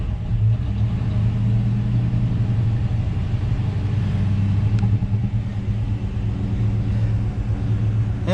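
A Chevy engine runs steadily just after an oil change, a loud, continuous low rumble with a mid-range engine drone that holds even throughout, with no talk over it.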